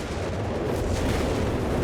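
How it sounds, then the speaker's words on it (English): Artillery fire in Company of Heroes 3 makes a dense, continuous rumbling roar of distant barrage, with no distinct individual blasts standing out. "Artillery called in."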